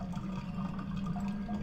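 Toilet flushing in a bathroom horror video game: a faint, continuous rush of swirling water with no voices.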